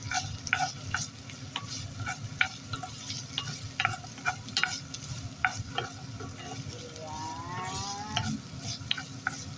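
Garlic sizzles steadily in a hot pan for beef apritada while a utensil scrapes and stirs in frequent sharp clicks, close and continuous.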